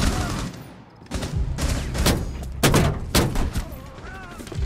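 Gunfire in the video game Rainbow Six Siege, several sharp shots and short bursts mixed with game effects, with a player's voice speaking over parts of it.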